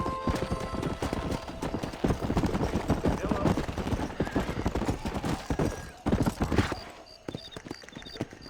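A horse galloping in Red Dead Redemption, rapid clip-clopping hoofbeats over continuous rumble, close and loud, with a whinny and voices over it before the hooves fade near the end.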